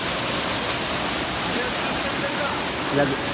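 Water of a large waterfall rushing down into a valley, a steady broadband roar that fills the whole clip, fairly loud with a slight swell near the end and no clear voices.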